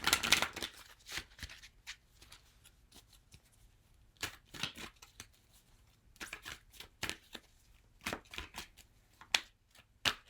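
Tarot and oracle cards being shuffled by hand, a series of crisp riffling and flicking bursts with brief pauses between, close and fairly quiet.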